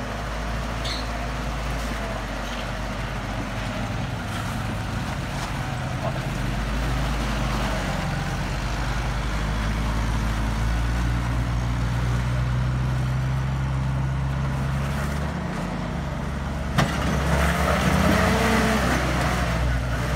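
Steady low engine drone of a vintage Willys Jeep crawling over rocky ground on the Rubicon Trail, continuous and fairly close, with a clunk and rattle near the end and faint voices underneath.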